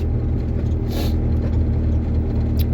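A car rolls slowly along a road in the early morning, with a steady low engine and tyre rumble throughout and no voices.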